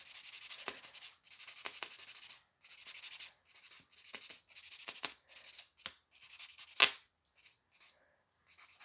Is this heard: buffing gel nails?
yes